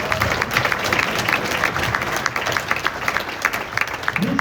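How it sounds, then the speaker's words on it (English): At a youth boys' soccer team banquet, an indoor audience breaks into applause, with brisk, continuous clapping from many people and a few crowd noises mixed in. "So big round of applause for that."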